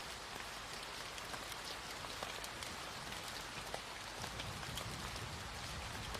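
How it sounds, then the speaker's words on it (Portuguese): Steady rainfall patters on surfaces as calm sleep ambience, a dense, even hiss with scattered distinct drop ticks, soft and continuous with no voices. "A chuva era uma cortina impenetrável sobre a BR-319, e o Fiat Mobi de Lucas mal conseguia furar"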